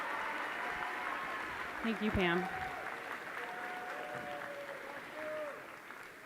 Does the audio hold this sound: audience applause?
yes